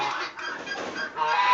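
Silkie chickens clucking in a straw-bedded coop on a cold, windy day, a continuous close cluster of soft, overlapping clucks and murmurs with wind noise underneath.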